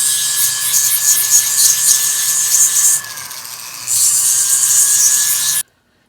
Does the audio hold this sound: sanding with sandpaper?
yes